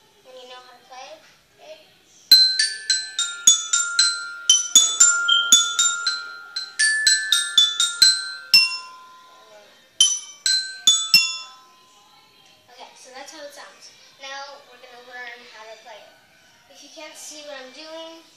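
A xylophone plays London Bridge as a bright run of clear struck notes in a steady melodic rhythm, then a voice babbles faintly in the closing seconds.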